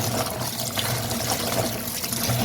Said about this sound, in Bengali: এটা ভালো করে ধুইয়া দিই।